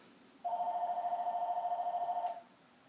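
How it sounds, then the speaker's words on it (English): A telephone rings once in a quiet room where a werewolf resin model kit is being dry-brush painted, a steady electronic trill lasting about two seconds, fairly clear and close, then stopping abruptly. "That's the phone."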